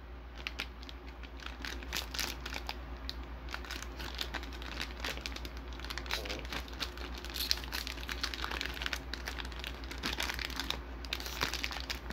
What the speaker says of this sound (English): In this video, I'll be opening up two hanger packs of 2021 Select Football.